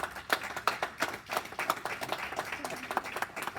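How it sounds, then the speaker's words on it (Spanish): A church congregation claps in a short, fairly quiet burst of applause with distinct individual hand claps and an uneven rhythm. "Un aplauso fuerte a Cristo Jesús."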